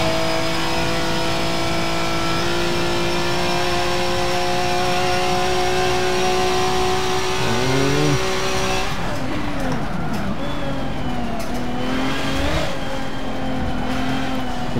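Group 5 race cars in Forza Motorsport, including an Audi 90 IMSA, Nissan 300ZX and Mercury Cougar XR7, with a loud engine droning at high revs, then shifting and revving up and down, while someone talks over it.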